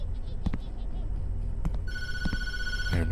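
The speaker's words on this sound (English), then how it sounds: "Don't answer the phone." A telephone in the horror video game Tattletail starts ringing with a bright electronic tone partway through, layered over thuds, footsteps and eerie ambient game sound.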